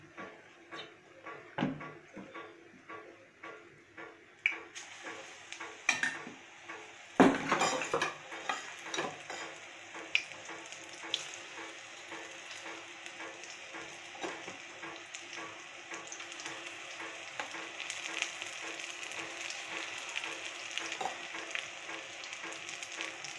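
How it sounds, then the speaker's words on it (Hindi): Onion pakoras made with gram flour frying in hot oil, a soft continuous sizzle with frequent clinks of a spoon and pan as pieces are dropped in and turned. "ऑयल गर्म हो गया है मेरा और इसमें अब हम पकौड़े डालते हैं बनाने के लिए।"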